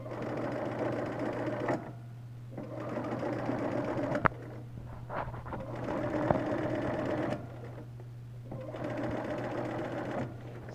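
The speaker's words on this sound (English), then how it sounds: "all I have to do is just start sewing again." Sewing machine stitching quilt binding onto placemats, a steady close mechanical whir running in bursts with brief pauses between.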